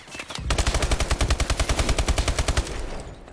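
Automatic weapon fire in a Call of Duty match, a close, loud burst of about twenty rapid evenly spaced shots lasting over two seconds, alone without talk.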